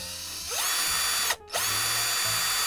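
A Tool&Tool REX18 18V lithium-ion cordless drill runs up to a high whine, stops briefly, then spins up again and holds a steady motor drone, close and loud.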